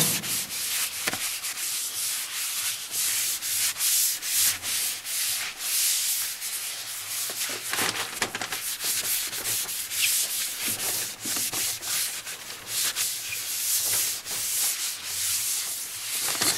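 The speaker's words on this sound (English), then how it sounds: "Put a little bit of acetone on this piece of napkin. I'm gonna wipe it off." An acetone-soaked napkin is rubbed over a car surface to clear dirt and sanding dust after peeling Plasti Dip, ahead of a bed liner repaint. The close, steady scrubbing continues throughout without any talk.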